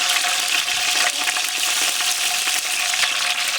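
Mustard seeds and cumin frying in hot peanut oil for a village-style dish. A loud, dense, continuous sizzle with fine crackling runs steadily throughout.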